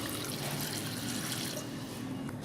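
A steady rush of water, about two glasses, pours continuously into a pan holding mutton, close and fairly loud, with no voices.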